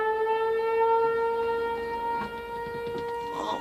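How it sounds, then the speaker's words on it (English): Sirens wail steadily from a distance, sustained tones holding over a faint background of light tapping and handling noise close by. "Oh, we got some sirens going off."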